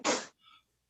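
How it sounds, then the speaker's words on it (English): A single sharp sneeze, likely a performer's voice during an online improv comedy show, bursts out loud and close, followed by a faint, brief vocal murmur. "You gone and made me sneeze."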